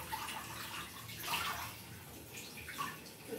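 Cold tap water pours steadily into a bathtub in a home bathroom, a continuous rushing splash that swells slightly midway and carries on alone without talk.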